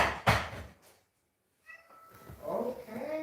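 A house cat meows a few times indoors, a short close call at the start followed by quieter, drawn-out mewing sounds after a brief silence.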